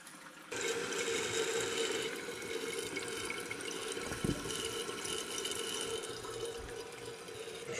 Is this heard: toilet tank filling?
yes